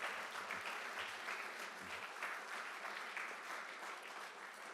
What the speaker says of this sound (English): Big round of applause for the legacy of Izzy Stone.